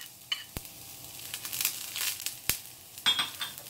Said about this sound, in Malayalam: പിന്നെ അതിനകത്തോട്ട് നമുക്ക് ആ ചെറുതായിട്ട് അരിഞ്ഞിരിക്കുന്ന ഗാർലിക്ക് അതിനകത്തിട്ടൊന്ന് സോട്ട് ചെയ്യാം